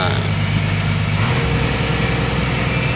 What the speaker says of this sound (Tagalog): ang makina